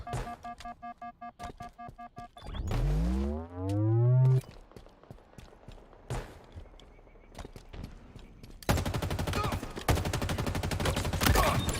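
Gunfire in Halo Infinite multiplayer: rapid bursts of shots, sharp weapon cracks and a sweeping electronic tone, then sustained automatic fire at the end, loud and close, with game effects in between.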